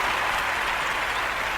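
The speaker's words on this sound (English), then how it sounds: "Hand clap again for me, baby." Steady audience clapping at a live Valentine's Day show, dense and continuous throughout with no talk over it.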